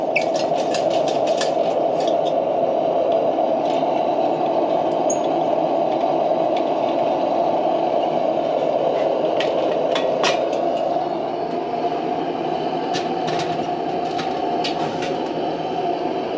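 A military pressure lantern at full pressure gives a steady, loud hiss held constant throughout, with occasional faint clicks and taps.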